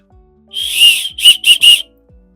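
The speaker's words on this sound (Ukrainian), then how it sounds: "Ви зрозуміли, да? Свисток." A small camping whistle gives one sustained shrill blast followed by three short sharp toots, loud and close, with no talking.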